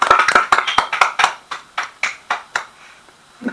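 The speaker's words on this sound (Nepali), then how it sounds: "एकपल्ट ताली बजाइदिनुहोस् न।" A church congregation at a Nepali fellowship service claps hands in a quick burst of sharp claps that thins into a few scattered, slower claps near the microphone.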